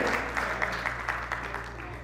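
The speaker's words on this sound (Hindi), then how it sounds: "एक बार जोरदार तालियां हो जाए हमारे राकेश सर के लिए और शशांक सर के लिए" Applause for two guests being honoured at a college commerce festival, a thin scattering of claps in an irregular rhythm, fairly faint over a steady low hum, with a voice faintly present.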